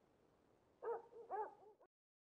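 A dog barks twice in the Persona 3 video game, two short clear barks about half a second apart with a brief whimpering tail, over a faint low background that cuts to silence.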